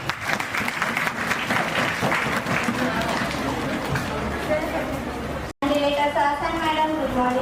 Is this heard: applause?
yes